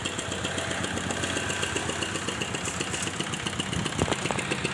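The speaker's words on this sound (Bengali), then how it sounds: "দেখতে পাচ্ছেন এই জেসিবিটা খোদাই হচ্ছে ওখানে" A JCB excavator digging at a roadside worksite, its engine running with a steady mid-pitched drone and knocking rumble, with scattered clanks near the end.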